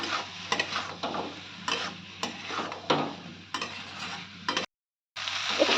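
Boiled chickpeas tossed with masala in a pan for chana masala, giving repeated close scraping stir strokes over a low sizzle, with a brief silent gap near the end before the stirring resumes.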